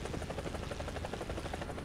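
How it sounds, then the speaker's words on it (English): Rotor thump of a fast, small attack helicopter flying in War Thunder, a steady loud chop with dense rhythmic blade pulses and engine whine, alone without talk. "These are fast attack little chopper."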